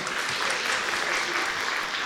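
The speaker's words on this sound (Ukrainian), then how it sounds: "Оплески Валерії" A stand-up comedy audience breaks into dense, continuous applause for a woman in the crowd, a wash of many hands clapping evenly throughout.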